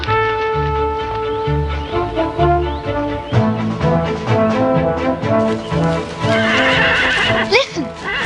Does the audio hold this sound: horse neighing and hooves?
yes